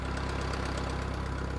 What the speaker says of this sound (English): I'm going to need to use the backhoe to drag that out of the barn